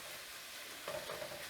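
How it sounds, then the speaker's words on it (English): Summer vegetables (squash, zucchini) and cherry tomatoes in a pan get a brief stir, a soft scrape and gentle sizzle rising near the end after a quiet hiss. "just give this a stir or two throughout the process while we wait on the tomatoes"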